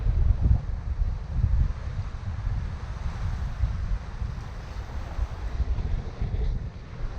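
Steady wind roars and buffets a sailboat cruising at about 8 knots on Bjørnafjorden, with a low rumbling rush and broad hiss running loud and continuous throughout, no voices.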